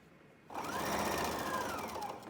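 A sewing machine chain-sews fabric seams, starting abruptly after a short quiet and then whirring continuously at a steady, close, fairly loud hum.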